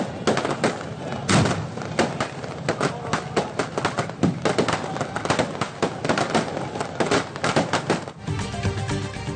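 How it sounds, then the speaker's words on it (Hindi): Dense fireworks display over Clifton's Teen Talwar in Karachi at an Independence Day celebration: rapid, loud bursts and crackling booms pile up continuously, easing briefly into a quieter crackle near the end. "कराची में क्लिफ्टन 3 तलवार पर जश्न आज़ादी की तकरीब में शानदार आतिशबाजी"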